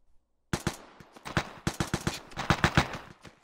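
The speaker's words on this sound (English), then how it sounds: "Both of you are shooting the snow." Gunfire in the game Vigor, with rounds striking snow: after a brief silence, a rapid string of close, sharp shots cracks out in uneven bursts, roughly a dozen or more, with no voices over them.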